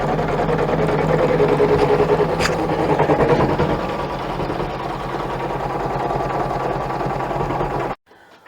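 An embroidery machine stitches the outline of a recycled denim zippered pouch in the hoop, a steady close mechanical whir with a fast needle rhythm for about eight seconds before stopping abruptly, and no voices.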